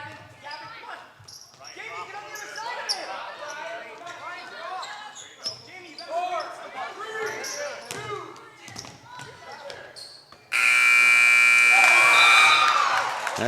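A basketball game with a ball bouncing on a court and sneakers squeaking while a commentator talks, ending in a long, loud electronic buzzer at the end of the quarter.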